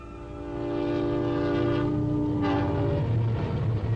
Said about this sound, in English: It is the night train from the city.